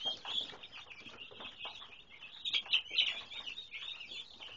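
A flock of laying chickens clucks and chirps softly in a busy, overlapping chorus, heard at a moderate distance through a window with no talking.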